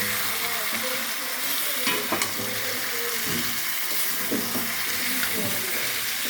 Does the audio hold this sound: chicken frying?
yes